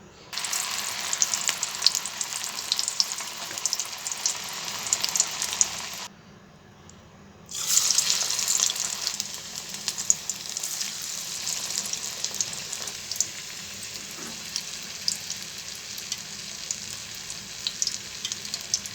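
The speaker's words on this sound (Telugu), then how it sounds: "పిండి ఆయిల్లో వేసేసుకుందాం" Pressed dough frying in hot oil gives a dense, bubbling crackle that pauses briefly midway, then resumes steadily with scattered pops.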